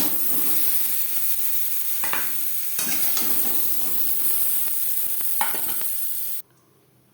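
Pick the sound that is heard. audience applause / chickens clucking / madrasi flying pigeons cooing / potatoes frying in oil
potatoes frying in oil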